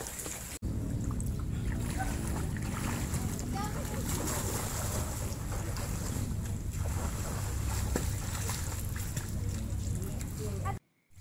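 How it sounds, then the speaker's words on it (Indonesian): A rubber boat drones steadily over floodwater in light drizzle, with wind and rushing water noise, while voices talk over it almost throughout. "Dan ini si Arsi pakai perahu karet main-main, padahal hari sudah sedang gerimis juga."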